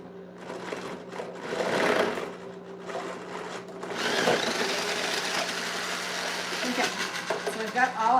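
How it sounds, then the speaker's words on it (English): A food processor grates Parmesan cheese cut into roughly one-inch chunks, its motor whirring and rattling loudly near the mic, rising and easing as the pieces are chopped, with a voice heard faintly at times. "Got all our cheese grated."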